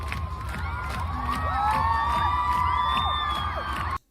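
A large crowd cheers and whoops loudly and continuously, with shrill individual shouts rising above the roar until it cuts off abruptly at the end.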